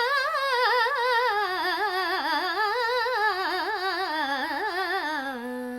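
A lone voice sings an Akar Taan in Hindustani classical style, a fast, rippling run of melismatic notes on an open vowel that climbs and falls in steady waves before settling on a held low note.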